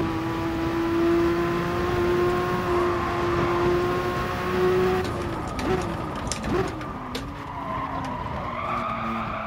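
Engine of a Porsche 962 C race car in Gran Turismo Sport, a steady high-revving drone that drops and shifts through gears midway, with tire squeals mixed in.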